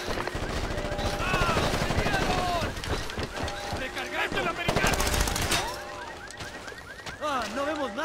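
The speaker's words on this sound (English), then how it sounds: "¡Nos están disparando!" Gunfire in Ghost Recon Advanced Warfighter 2, with rapid automatic bursts and scattered shots rattling through a chaotic firefight while soldiers shout over the noise.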